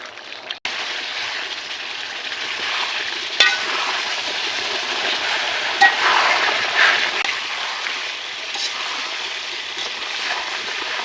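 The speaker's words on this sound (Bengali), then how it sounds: "এভাবে আরো কিছু সময় মাংসটা কষিয়ে নিতে হবে।" Meat being stir-fried in a pan for a Bengali curry, with green chili paste added, gives a steady close sizzle and frying hiss throughout, with occasional spatula scrapes and clicks and no talking.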